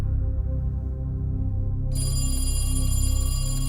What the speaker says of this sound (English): The phone rings in the kitchen